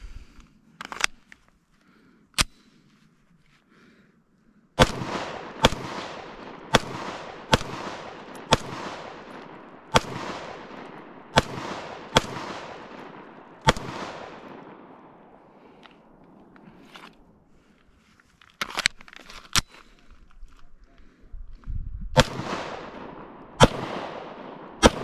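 A full-size Stoeger STR-9 pistol fires at an outdoor shooting range: sharp loud single shots in irregular bursts, some quick rapid strings, with pauses and faint movement between them.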